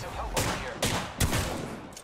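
Mastiff shotgun blasts in the Apex Legends video game, three loud booming shots about half a second apart, each trailing into a rumbling tail.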